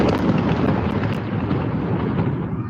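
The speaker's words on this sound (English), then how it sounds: "As you can hear now, this is the bombing. They are gonna bomb a tower beside us." Deep, rumbling booms from bombing near a tower roll on continuously, loud and low, blending with wind-like noise outdoors, with no talking.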